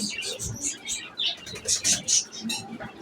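Pigeons and other birds at a crowded bird shop, with a busy mix of chirps, tweets and coos in short repeated bursts, close and fairly loud, with faint voices in the background.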